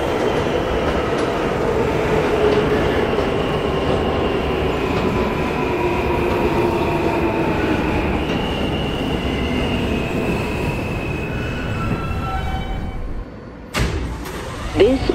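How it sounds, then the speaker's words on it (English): An R160A G subway train on the IND Crosstown Line in the Roblox game runs with a steady rumbling roar and faint rising motor whines, continuous and close, briefly dropping before a recorded announcement begins. "This is a Long Island City Court Street bound G train"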